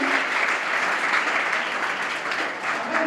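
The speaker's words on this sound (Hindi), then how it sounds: "एक बार जोरदार ताली" Loud, dense applause rises from a crowd at a student felicitation ceremony, a continuous rush of many hands clapping close by that dips briefly and then picks back up.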